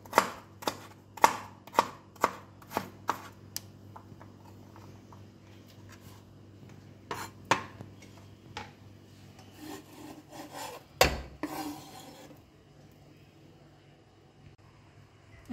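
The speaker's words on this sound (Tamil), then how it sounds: "இந்த மாதிரி சின்ன சின்னதாக வெட்டிக்குங்க." Knife chopping beetroot into small pieces on a board, sharp rhythmic taps that come in bursts and then grow sparser, close and moderately quiet, with a louder knock near the end.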